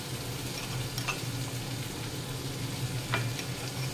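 Taro root curry seasoned with turmeric, salt and chili powder being stirred in a pan, giving a steady low sizzle with a few soft scraping strokes of the spoon, close and moderately quiet, with no talking.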